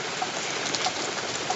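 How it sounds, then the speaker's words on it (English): Heavy rain pours down steadily in Trepassey, Newfoundland, a dense continuous hiss of drops with no pauses, close and loud. "It's raining really, really bad."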